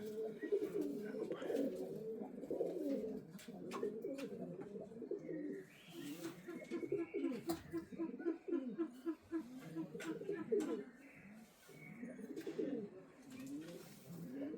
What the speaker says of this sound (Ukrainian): тут пташки.